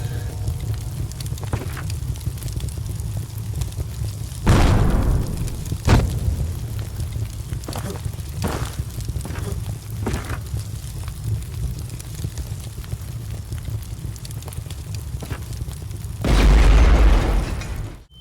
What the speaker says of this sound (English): After the crash, I found myself in the back of the vehicle, surrounded by flames